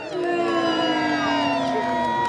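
A crowd at a police dog show lets out a long, sustained boo, many voices droning together loudly with some higher shouts mixed in.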